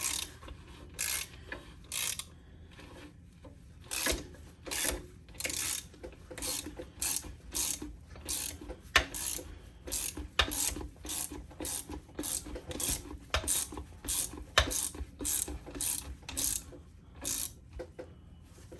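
A socket ratchet clicks in steady, repeated bursts, tightening a MacPherson coil spring compressor on a Subaru coil spring. The close mechanical ratcheting is heard alone, each stroke a quick run of pawl clicks between brief pauses.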